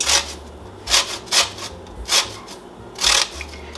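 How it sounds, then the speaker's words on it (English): Limes rubbed against the zesting side of a box grater, a close, bright rasping scrape repeated in about six quick strokes with short pauses between, no talking. "If you have a box grater, this is the side that I use to grade my limes."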